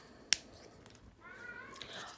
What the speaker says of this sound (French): Ah, là, c'est mon chat qui fait des siennes.